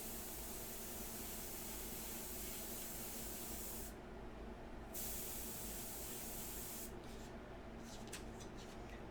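An airbrush sprays a dark India ink mixture in a continuous close hiss, briefly pausing twice with short breaks and stuttering bursts near the end.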